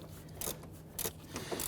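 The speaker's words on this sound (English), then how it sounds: "Now I'm using a swivel head ratchet for clearance." A swivel head ratchet turning a shallow 10mm socket to loosen nuts while replacing the AC condenser on a 2011-2015 Kia Sorento, with a few quick clicking bursts, close and fairly quiet.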